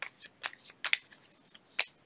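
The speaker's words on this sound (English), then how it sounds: "I shuffle those up" Playing cards for Defense Grid: The Board Game being shuffled by hand, a few quick crisp riffling bursts spaced apart, close and fairly quiet with no talk.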